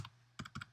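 Several quick computer keyboard keystrokes clack close up and quietly while code is typed, a short burst of separate taps with no talking.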